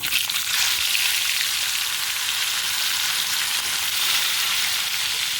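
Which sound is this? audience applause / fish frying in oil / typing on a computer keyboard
fish frying in oil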